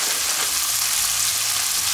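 Pieces of lamb brown in a pan for a sorrel sauté, giving a steady, loud, dense sizzle that runs without a break from start to finish, with no talking.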